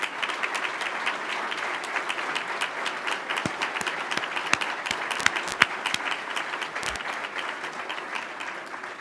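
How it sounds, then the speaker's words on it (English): An audience applauds the panelists and the question-askers at a political debate event: a steady, dense round of clapping that holds evenly for about nine seconds, with a few sharper individual claps standing out near the middle. "we'll give them a round of applause as well"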